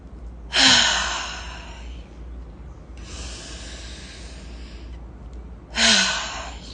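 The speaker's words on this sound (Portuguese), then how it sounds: "inspira bem profundo pelo nariz e solta o ar pela boca" Two deep breaths, each drawn slowly in through the nose and released out through the mouth, the exhales loud and close with a soft airy hiss trailing off, separated by a quieter breath in the middle.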